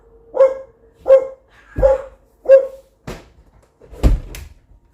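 A dog barks four times in a steady rhythm, fairly close, followed by a couple of dull thuds like a door or cupboard knocking.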